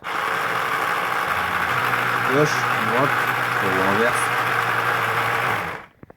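A small petrol engine of a vintage Rollet Red Eagle RC boat drones steadily throughout while a person speaks briefly over it; the hum fades out at the end.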